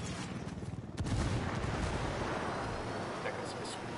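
A frag grenade goes off in the Ghost Recon video game, a sudden loud low boom about a second in that rolls into a sustained rumble amid ongoing combat noise.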